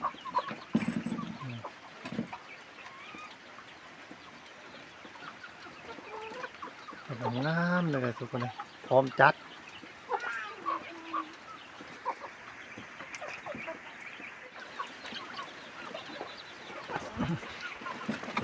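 Farm chickens and a rooster on a rainy plot cluck intermittently, with a brief crow near the middle, close by under light background noise while a person talks.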